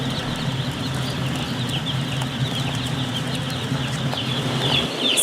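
Chickens in a farm barn, a steady dense bed of clucking and chatter from many birds mixed with constant low mechanical hum, with occasional wing flaps, no talk.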